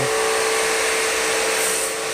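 A power drill bores holes through a stainless steel tray for a motorcycle, giving a loud, steady whirring grind that runs unbroken for about two seconds with no talking.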